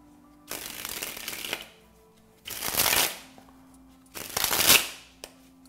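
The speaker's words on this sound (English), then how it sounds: "And that's the card spring." A deck of playing cards is sprung from one hand to the other, making three loud, close, fluttering riffles separated by short pauses, with no talk.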